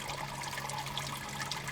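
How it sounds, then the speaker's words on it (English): Water drains from a blue tank into a gray coolant tank on a homemade grinder tank setup, a steady, continuous splashing trickle at close range with no pauses. "I've added a little bit of water to the blue tank, which is now draining into the gray tank just like it should"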